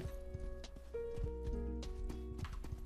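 Horse hooves clip-clop steadily, joined by a bright neigh partway through, over a low rumbling background with faint voices, in the video game Rust.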